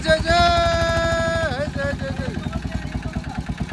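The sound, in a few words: engine being started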